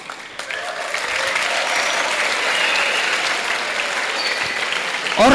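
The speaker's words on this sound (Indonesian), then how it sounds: "nggak usah tepuk tangan" An audience applauds at an Islamic religious lecture, a dense, steady roar of clapping that holds strongly for about five seconds without letting up.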